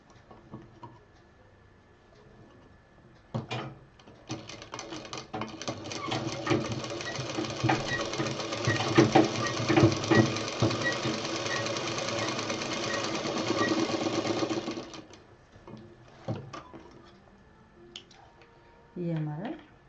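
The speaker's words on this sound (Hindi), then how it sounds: "इसको भी हम पूरा यहाँ से सिल देंगे ताकि ये अपनी जगह पे टिकी रहे।" An electric sewing machine stitching a fabric cover, a close, steady rapid whirring run of about twelve seconds bracketed by handling clicks, with a voice speaking before and after.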